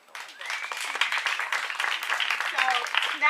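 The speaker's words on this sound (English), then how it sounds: "Can we get a round of applause, please?" An audience at a poetry event gives a round of applause: dense, close clapping that starts almost at once and holds steady for a few seconds.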